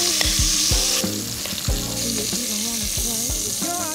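Pork cheeks browning in a small pan for a beer-braised stew, frying with a strong continuous sizzle and hiss, close and steady, with soft stirring and pan sounds mixed in.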